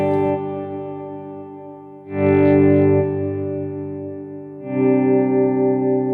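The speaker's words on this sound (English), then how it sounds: "So toe down, we should have no sound, and we can do swells if we wanted." Electric guitar played through an HX Stomp with an expression pedal controlling channel volume, producing slow volume swells: sustained distorted, chorused chords fade in and out in three rising swells, loud and close with no talking.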